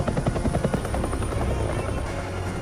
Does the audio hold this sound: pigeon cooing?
no